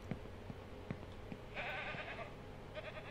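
Goats bleat in the farming game Ranch Simulator, with two drawn-out bleats standing above a low ambient hum and soft scattered clicks.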